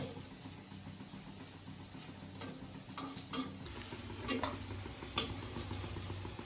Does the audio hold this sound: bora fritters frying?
yes